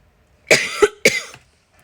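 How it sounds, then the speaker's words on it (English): Two quick, close coughs from someone getting over the flu, sharp and a bit raspy, alone against a quiet room. "we are still all getting over all the flu crazy that we had last week, so still have the cough"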